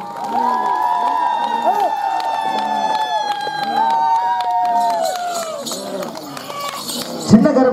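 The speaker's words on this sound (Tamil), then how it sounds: "கைதட்டுங்கம்மா, கைதட்டு கைதட்டு கைதட்டு." Audience at an outdoor Tamil village drama clapping and cheering in steady continuous applause, while a loud amplified voice and musical tones ring out over the crowd noise, ending with a sharp knock.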